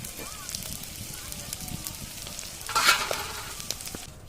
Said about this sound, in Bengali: মাছ তুলে আমি এই তেলেতে তরকারিটা চাপিয়ে দেব